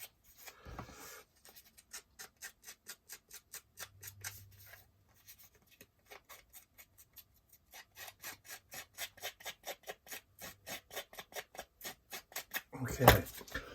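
Rapid, rhythmic snipping of sharp scissors through paper, a steady run of crisp cuts close by, ending with a louder rustle.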